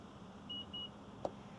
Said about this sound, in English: you hold the button and listen for all the beeps.